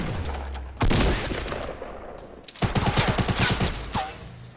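Gunfire in the video game Fortnite, a loud burst of shots followed by a rapid rhythmic string of automatic fire, up close and dominating the scene.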